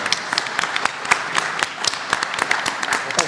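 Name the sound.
audience applause at convention panel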